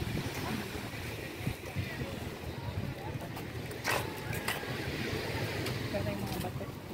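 Sea waves rolling ashore on a rocky coast, a continuous broad wash of surf mixed with wind buffeting the microphone and a few brief knocks, moderately loud throughout.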